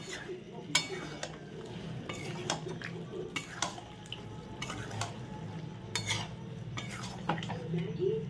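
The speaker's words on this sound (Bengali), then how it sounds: "অল্প একটু জল দিয়ে এটাকে আরও একটু ভালো করে কষাতে" Potato curry being stirred in a pan after a splash of water, with repeated sharp clinks and scrapes of a metal spoon against the pan over a soft bubbling background.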